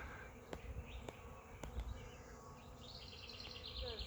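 A large swarm of honeybees hangs from an oak tree in a yard, giving a steady, dense buzz that carries through the whole stretch, with a few sharp clicks and faint bird chirps.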